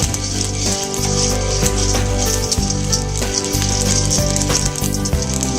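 Coffee beans roasting in a home pan hiss and sizzle loudly and steadily, with a continuous rustling rattle as they are stirred and scraped around, close and dense from start to finish.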